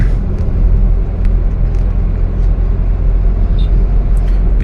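A car cruising at night at around 60 to 80 km/h gives a loud, steady interior rumble of engine and road noise, with a few faint clicks and ticks over the drone.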